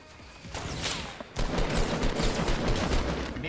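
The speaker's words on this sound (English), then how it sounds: "I'm being shot from another person, I think." Rapid bursts of gunfire ring out in an online shooter game, with a short volley followed by heavier sustained shooting that sounds close and fairly loud.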